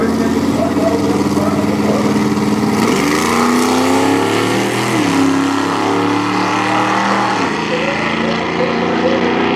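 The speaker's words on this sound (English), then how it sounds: "That's Fred Prada, who takes that over the 1988 Ford Mustang." A 1988 Ford Mustang and a 1974 Olds Omega race in a Heavy Street drag racing class. Loud, close engine roar fills the whole stretch, with stepped pitch drops and rises like gear changes under hard acceleration.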